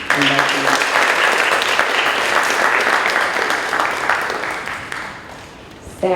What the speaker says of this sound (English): Round of applause to these inductees